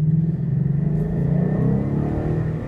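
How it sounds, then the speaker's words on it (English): A 2013 Ford Mustang GT Premium V8 fitted with the exhaust from a 2012 GT500 rumbles steadily at close range, a deep, even, throbbing idle with a slight rise and fall and no voices. "That's just the GT 500 exhaust off a 2012 GT 500. Sounds amazing."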